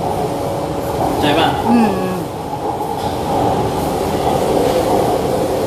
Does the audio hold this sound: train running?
yes